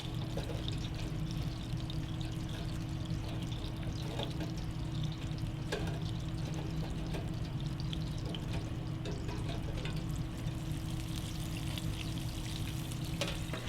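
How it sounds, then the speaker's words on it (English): Oysters deep frying in a fryer basket, a steady bubbling sizzle of hot oil with a constant low hum underneath and occasional sharper crackles, continuous and moderately quiet with no talking. "Cook the oysters for 3 minutes, then turn them over."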